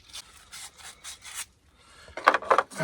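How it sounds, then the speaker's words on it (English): Sandpaper rubbed by hand over brake caliper slide pins to remove burrs, giving a series of short, dry rasping strokes, softer at first and then louder and harsher near the end, with no talking. "These pins, I'll just give them over right quick sandpaper here."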